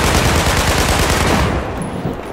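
Rapid automatic gunfire rattles loudly through a video game firefight, a dense burst that thins out toward the end.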